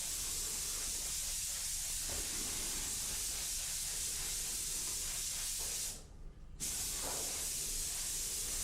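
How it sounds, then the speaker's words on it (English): An airbrush lays down Auto Air Colors base coat in Cedar Dark over practice helmets, giving a steady, close hiss of spray that runs almost the whole time and breaks off briefly near the end. "I'm just laying down a couple of coats of base coat Cedar Dark over a few practice helmets."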